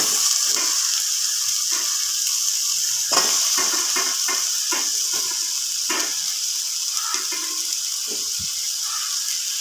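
Tuna pieces fry in masala in a pan, giving a steady, close sizzling hiss throughout, broken by scattered clinks and scrapes of stirring.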